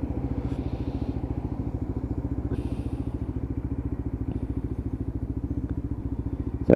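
A Lexmoto LXR motorcycle on the road, its engine thrumming in a steady rapid pulse throughout at an even, moderate level, with faint clatter and wind in the background and no talking.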